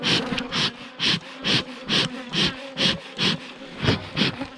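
Honeybees buzz around a swarm near a hive, the drone loud and close, swelling and fading in a steady pulsing rhythm of about two surges per second with no talking.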